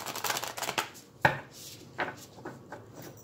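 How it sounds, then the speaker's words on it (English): Close, quiet riffling and slapping of cards being shuffled, a brisk flurry followed by a few softer taps. "I'm just going to do a quick shuffle here."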